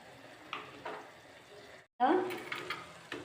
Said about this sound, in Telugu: టమాటాలు యాడ్ చేసి బాగా వేయించుకోవాలి.